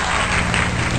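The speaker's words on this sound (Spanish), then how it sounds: "Un aplauso para el asador" People at an outdoor riverside fish cookout applaud the grill cook, a brief, loud burst of dense clapping close by, continuous for about a second.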